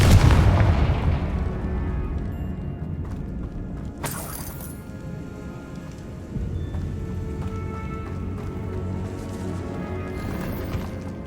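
Confringo blasting spell in Hogwarts Legacy, a sharp loud burst at the start followed by a booming crack, then rumbling, clattering game ambience that fades into a busy background with a second impact partway through.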